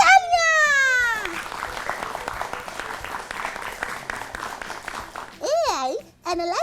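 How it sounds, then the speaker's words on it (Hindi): A classroom audience of children claps for a correct answer in a kids' show about AI in education, a dense burst of applause lasting several seconds, with warbling electronic effect tones before and after. "Exactly! तालियां!"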